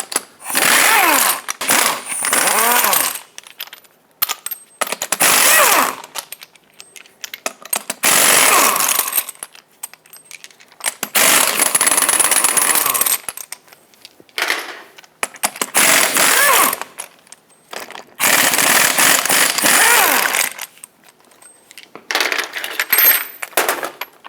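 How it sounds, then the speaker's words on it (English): Lug nuts come off a Ram 2500 front wheel with a power tool and socket: repeated loud buzzing, rattling bursts of a few seconds each, close by, separated by short pauses, with no talking. "Whatever socket size you need, remove all 8 lug nuts."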